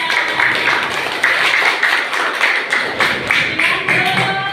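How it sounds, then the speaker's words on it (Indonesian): Classroom applause for group 2, a few seconds of rhythmic, patterned clapping in even bursts from a group of students, with a voice faintly present. "Tepuk tangan kelompok 2"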